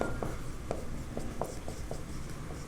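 A pen or marker writes on a board during a class 10 triangle geometry lesson, giving a string of evenly spaced light taps and strokes over a loud, steady background hiss.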